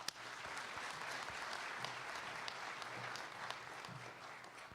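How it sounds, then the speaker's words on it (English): An audience at an immigration ceremony at the JFK Library applauds, a sustained, even wash of clapping from a large crowd that holds steady throughout without voices. "Give him a big round of applause to Stephen."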